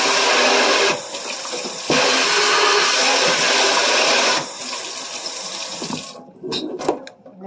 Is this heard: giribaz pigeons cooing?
no